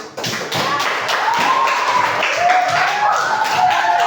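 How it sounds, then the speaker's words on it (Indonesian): A teacher in a classroom claps hands to praise pupils, a few quick taps and claps heard close under her continuing speech. "Ibu apresiasi kalian dengan Ibu memberikan tepuk tangan."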